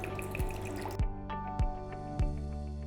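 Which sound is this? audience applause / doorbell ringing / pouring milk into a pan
pouring milk into a pan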